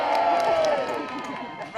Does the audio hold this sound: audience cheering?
yes